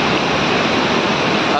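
Perwaghagh waterfall in Khunti, Torpa: a loud, steady roar of falling and flowing water, broadband and continuous from start to finish, with no other sounds standing out.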